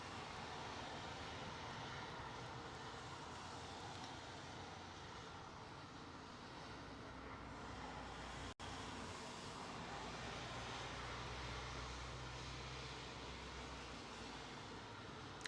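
An SAS airliner taxis at London Heathrow, its engines giving a steady, broadband jet roar that holds constant and fairly loud throughout, with a low rumble underneath and no voices.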